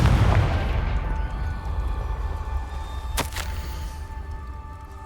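The Confringo blasting curse in Hogwarts Legacy bursts with a deep explosive boom at the start, then a rumbling decay, with a brief sharp crackle a few seconds later over a steady low ambience.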